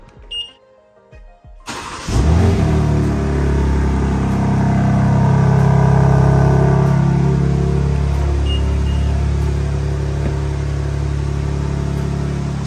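A car engine starts and revs with its exhaust valves opened, a loud, close roar that swells, holds and settles into a steady drone.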